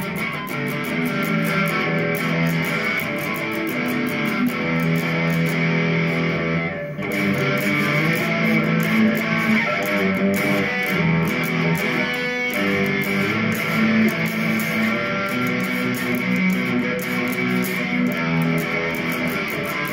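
Fame SE Series ST Special Natural electric guitar on its full bridge pickup through distortion, dense sustained chords ringing loud and close with a brief break near the middle, no talking.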